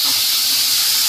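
Chopped tomatoes hitting a hot pan for baigan bharta, a loud, steady hiss of sizzling that fills the short moment without any voices.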